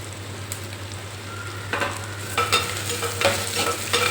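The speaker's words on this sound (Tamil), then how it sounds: "தக்காளி பழம் லைட்டாக வதங்கட்டும்" Tomatoes sauté in a pan for a spicy broad bean curry, a soft steady sizzle under a low hum, with scraping stirs picking up in the second half.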